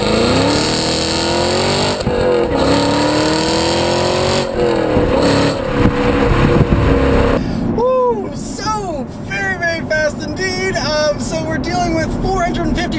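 A 2016 Chevrolet Camaro SS with the 6.2-liter LT1 V8 revs hard and accelerates, its loud engine drone rising and falling in close, continuous pulls before a voice begins exclaiming over the noise.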